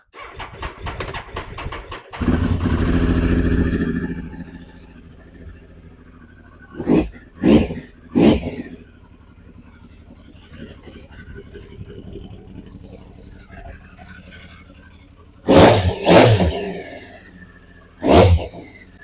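A Triumph Speed Triple 955i motorcycle engine cranks and starts, then idles with an uneven rumble, broken by several loud bursts and rattles, close by.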